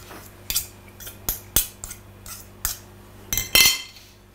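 A utensil scrapes and clinks against a bowl while stirring a very thick sardine and ham mixture, with about ten sharp, irregular knocks and scrapes, close and fairly loud, the last one a longer grating scrape.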